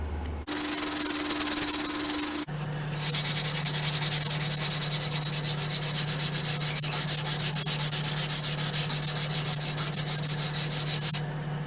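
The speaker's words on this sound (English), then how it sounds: "Just enough to then touch up with the sandpaper." Sandpaper is rubbed over the wooden fore-end of a M1912 Norwegian Krag carbine stock. A brief rasp comes first, then a long run of steady, rapid back-and-forth sanding strokes, close and even, with no talking.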